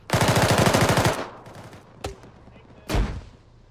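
Rapid automatic gunfire opens a military video game skirmish with a loud, dense burst of shots, followed by two isolated sharp cracks a couple of seconds apart, alone without speech.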